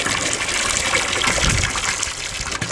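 Water gushes steadily from a hose fed by a 12V pump into a drum at an allotment, a strong continuous splashing flow close by.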